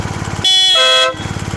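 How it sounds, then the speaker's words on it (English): A loud, blaring motorcycle air horn on a BMW R1250GS sounds once for about half a second, very close and piercing, between stretches of rumbling engine. "I almost deafened myself in the right ear there as the air horn activated"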